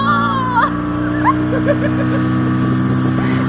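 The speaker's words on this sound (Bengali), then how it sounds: "এবার আস্তে আস্তে আবার বোট চালু হয়ে গেল।" A speedboat engine drones loud and steady at close range on the reservoir at Maithon Dam, a continuous motor hum with wind noise and brief faint voices over it.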